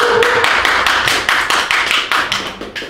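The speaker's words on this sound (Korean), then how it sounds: "다시 한번 박수 부탁드립니다" An audience at a Korean Christian praise concert claps in a brisk, close burst of rapid hand claps that quickly thins and fades out.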